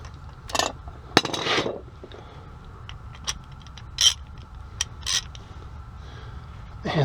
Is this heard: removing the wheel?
yes